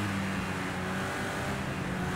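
Race cars from the Project CARS 2 video game, including GT4 cars, roar continuously in a dense, loud engine drone with no audible voices.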